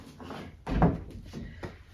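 A prehung door being opened during installation, a few dull knocks and a heavier thunk near the middle, moderately loud and close, with no talking.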